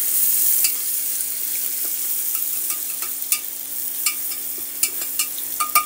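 Onion-garlic and ginger-garlic paste fries in hot oil with whole spices for a matar pulao, giving a steady, bright sizzle with scattered clinks of stirring near the end and no voices.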